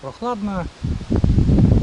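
Gusty wind buffets the microphone with rough rumbling bursts, following a brief spoken phrase.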